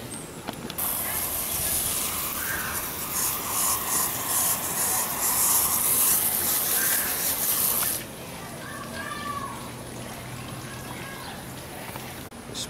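Spray gun laying down three-stage pearl car paint in a home spray booth, a loud steady hiss of atomized paint running continuously for about eight seconds before dropping to a softer background hiss.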